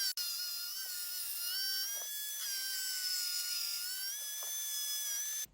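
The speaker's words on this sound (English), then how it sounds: "I like to use a grinder with a 40 grit flap disc on it" Angle grinder with a 40-grit flap disc coping the back of a crown molding piece, a steady high whine that holds throughout at close range with small dips in pitch as it bites, alone with no talk, then cuts off abruptly.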